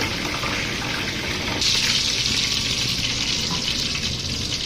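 Cumin seeds tempering in hot ghee for shahi daal, a loud, steady sizzle that jumps into a brighter, fiercer hiss partway through as more spice hits the fat, with no talking.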